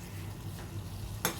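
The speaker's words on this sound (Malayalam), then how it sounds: "നമുക്കൊന്ന് ഇളക്കി കൊടുക്കാം" Shankupushpam pudding simmers in a pan, giving a soft, steady bubbling hiss, with a quiet spoon stir and a brief scrape near the end.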